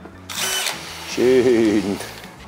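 A power drill whirs in short bursts, its motor pitch rising and falling, drilling parts of a custom moped, with a person speaking nearby.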